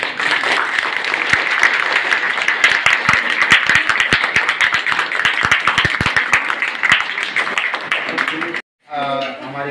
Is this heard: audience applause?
yes